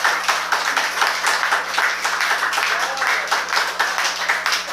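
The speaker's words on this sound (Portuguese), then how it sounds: "Vamos dar um aplauso à graça de Deus?" A church congregation claps in rhythmic, pulsing waves, many hands beating together at a steady tempo, fairly close and lively, with faint voices mixed underneath.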